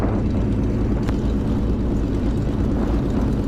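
A Supermarine Spitfire taxis on an airfield apron toward the runway, a loud steady engine drone with a dense low rumble filling the whole stretch, unbroken and close.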